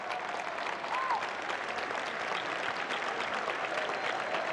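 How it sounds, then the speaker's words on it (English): Crowd applause for Vice President Bush after the 1988 presidential debate in Los Angeles, a continuous, even wash of clapping at moderate distance with faint cheering mixed in. "that's applause for Vice President Bush, who's still on the stage with his wife, waving to his supporters"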